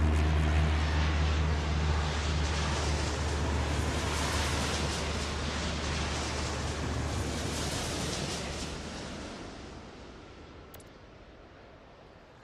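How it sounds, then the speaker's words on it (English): A jet aircraft takes off in the airport-control game Airport Madness World Edition, producing a broad, steady engine roar that gradually fades away toward the end, with no voices over it. "Slamjet 991 cleared for takeoff."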